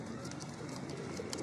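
Pigeons at a pigeon club loft coo softly and steadily, a low murmuring warble that carries on without pause, with no talk over it.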